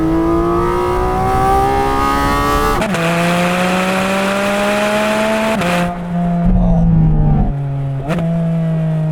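A Porsche GT4 RS with a PDK gearbox revs hard, its engine note climbing in pitch through rapid upshifts with sharp breaks between gears, loud and close, then settling and revving again near the end.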